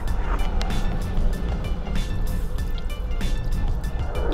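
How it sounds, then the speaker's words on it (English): Broth pours into a bowl of ramen with a steady liquid splash and soft drips, close by, over a constant low rumble of background noise. "Gonna pour the broth in the ramen."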